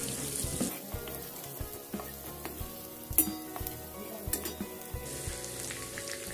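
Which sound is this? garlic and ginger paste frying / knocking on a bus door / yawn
garlic and ginger paste frying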